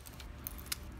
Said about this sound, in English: I'm guessing these Abus keys go to these guys.